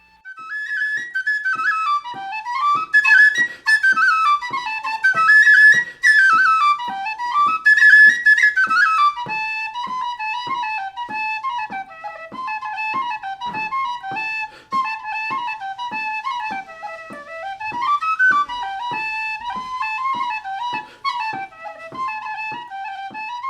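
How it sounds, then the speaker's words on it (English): A tin whistle plays a lilting traditional melody alone, bright ornamented notes rising and falling with a steady dance-like rhythm, close and clear. "Here's a more modern tin whistle playing a traditional tune."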